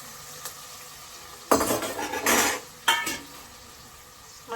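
Ingredients fry golden in a pan for a first homemade biryani, a soft low sizzle broken by louder bursts of spatula scraping and clattering against the metal pan, with no talking.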